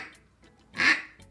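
A handheld duck call gives a single raspy quack, loud and close, after faint softer breaths, imitating a duck on the water.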